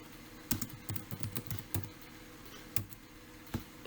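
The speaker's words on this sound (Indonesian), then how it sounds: "saya ketik di variable view-nya name-nya tinggi" Computer keyboard typing while entering variable names in SPSS/JASP software: irregular bursts of close, crisp keystrokes with short pauses between clusters, no talking.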